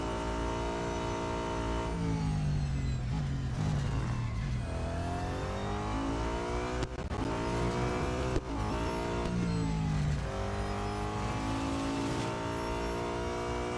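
A BMW M6 GT3 race car in the Real Racing 3 racing game revs hard and continuously, its engine pitch climbing and dropping through repeated gear changes with loud, steady engine tone throughout and no talking.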